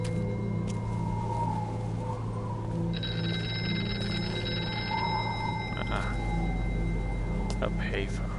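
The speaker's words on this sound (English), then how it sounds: "A payphone." A payphone rings inside the horror game Here They Lie, steady and tonal over a constant low ambient drone, with a brighter ringing layer entering partway and faint distant voices underneath.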